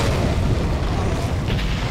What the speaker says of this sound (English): Let's throw the grenade.